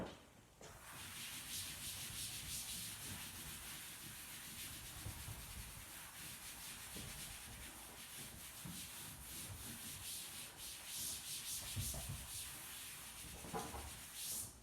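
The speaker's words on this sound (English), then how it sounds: "let me get my eraser real quick" An eraser rubbing back and forth across a board, a soft continuous scrubbing hiss with uneven strokes over about fifteen seconds, faint and close, with no talk.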